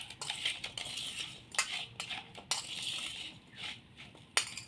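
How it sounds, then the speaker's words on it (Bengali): Lemon pieces tossed with salt for a homemade lemon pickle give close, steady wet scraping and crunchy stirring, broken by several sharp clinks and knocks, with no talking. "এবার এটাকে ভালো করে ম্যারিনেট করে নেব।"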